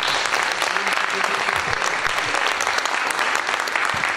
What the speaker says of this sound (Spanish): Pero le damos nuevamente un aplauso a Mauricio.